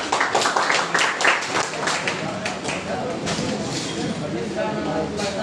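Audience at a youth training camp held at a college in Madhepura, Bihar, breaks into sustained, dense applause, a steady wash of clapping that fills the whole stretch at fairly even loudness.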